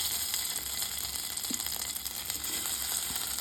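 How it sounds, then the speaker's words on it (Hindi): Cut potatoes frying in hot oil in a kadai give a steady, dense sizzle and hiss throughout, with a few faint stirring ticks and no talking. "तेल अब बहुत ही अच्छे से गर्म हो चुका है, तो हम डाल देंगे ये कटे हुए आलू।"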